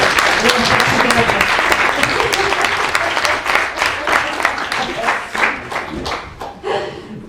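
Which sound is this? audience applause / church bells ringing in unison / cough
audience applause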